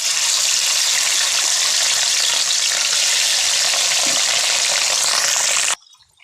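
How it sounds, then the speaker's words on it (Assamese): Marinated fish pieces fry in hot oil in a kadai, a loud, dense, continuous sizzle and crackle close by that cuts off abruptly near the end. "আমাৰ কেৰাহীত তেল গৰম হৈ গ'ল এতিয়া মাছকেইডোখৰ ফ্ৰাই কৰি লওঁ"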